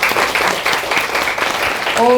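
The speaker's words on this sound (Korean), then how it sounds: "박수 좀 보내드릴까요?" Audience applause at a seminar hall, steady clapping from a crowd with a voice briefly over it near the end.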